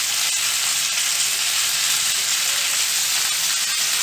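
Chickpeas cooking in ghee with onion, tomato and salt added give off a loud, steady, dense frying sizzle, continuous and uniform throughout with no talking.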